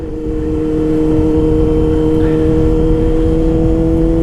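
A Yamaha R6 motorcycle engine pulls steadily while the rider shifts up to third gear, a loud, constant droning hum with sustained tones and no talking.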